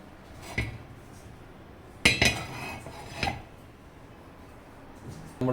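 A frying pan is picked up and set onto the stove for cooking jumbo prawns, giving a few sharp metallic clanks and knocks spread out over several seconds, fairly close, with no talking.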